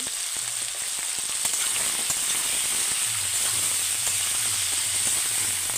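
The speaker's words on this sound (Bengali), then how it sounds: "লবণ দিয়ে এটা হালকা করে ভেজে নেব" Potatoes and broiler chicken frying in a pan, with tomatoes just added, give a steady, even sizzle and hiss that runs unbroken throughout, close and moderately loud, with no speech.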